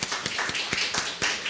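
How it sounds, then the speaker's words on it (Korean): Church congregation clapping together, a dense patter of many hands with sharper individual claps standing out, steady and fairly close, with no voices over it. "우리 다시 한번 박수하겠습니다"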